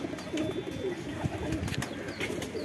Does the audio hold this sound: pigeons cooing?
yes